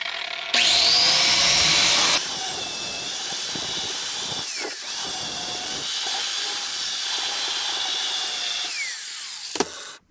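A new DeWalt angle grinder replacing an old Hitachi, revved in a workshop: a loud, sustained high whine that spins up sharply, holds steady with slight pitch dips, then winds down abruptly at the end, with no voices.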